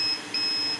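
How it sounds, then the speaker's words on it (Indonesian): A pure-sine-wave UPS inverter with a 2000 W transformer gives an overload alarm as two short, shrill electronic beeps. The first beep is clipped and the second is longer, both over a low hum. "di sini 103 dan sini inverter overload ya. Ini untuk alarm"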